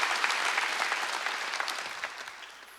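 Applause from a congregation at a Sunday church service, a steady wash of many hands clapping that holds fairly loud and slowly fades toward the end, with no talking over it.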